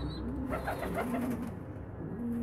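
Young homing pigeons at a pigeon auction in Damietta, Egypt, cooing softly and repeatedly over a steady murmur of crowd and room noise, with no clear talk.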